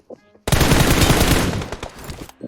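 Sustained automatic gunfire in PUBG Mobile rattles loudly and continuously for about a second and a half, then breaks into a few scattered shots, with faint voices around the edges.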